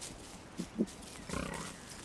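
Pig King from the game Don't Starve gives a couple of short low grunts, then a longer snorting grunt, all fairly faint.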